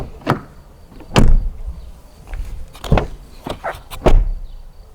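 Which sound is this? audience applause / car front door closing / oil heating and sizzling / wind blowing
car front door closing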